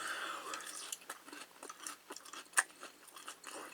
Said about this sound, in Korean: 자 얇은 것부터 하나 먹어보도록 하겠습니다